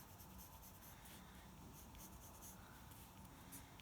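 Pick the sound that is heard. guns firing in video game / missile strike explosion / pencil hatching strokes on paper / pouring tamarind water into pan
pencil hatching strokes on paper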